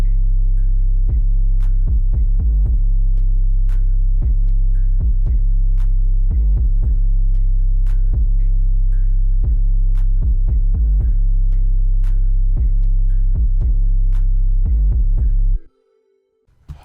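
An FL Studio beat in a Shamana style carries a steady pulsing low bass with a synth layer and regular ticking hi-hats, looping loudly until it cuts off abruptly near the end.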